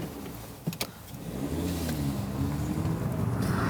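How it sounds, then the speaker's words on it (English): An Audi RS3 with its turbocharged five-cylinder engine and sport exhaust fires up, a couple of sharp clicks followed by the engine catching and settling into a deep, steady burble, close and alone. "This improved second generation RS3 model's potent burble is just as soulful as that of its predecessor"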